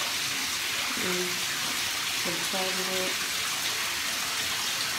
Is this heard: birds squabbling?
no